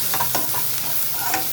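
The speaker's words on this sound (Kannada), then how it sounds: "ಈರುಳ್ಳಿ ಫ್ರೈ ಆಗಬೇಕಾದ್ರೆ ಒಂದು ಸ್ವಲ್ಪ ಉಪ್ಪು ಹಾಕಿದ್ರೆ ಈರುಳ್ಳಿ ಬೇಗ ಫ್ರೈ ಆಗುತ್ತೆ." Onions frying with a pinch of salt and lentils in a pan, a steady soft sizzle with a few brief scraping stirs, close and alone with no voices.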